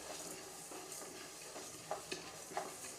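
Black pepper and fenugreek are dry roasted in a pan, giving a faint, steady crackling hiss with a few soft scrapes of stirring near the end.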